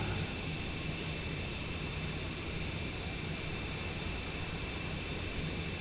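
Jet engine of a Longitude business jet in Flight Simulator 2020, a steady broadband roar and whine heard from outside the aircraft during a climb, continuous and even throughout with no voices.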